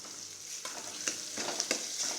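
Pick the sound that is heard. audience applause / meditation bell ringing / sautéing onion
sautéing onion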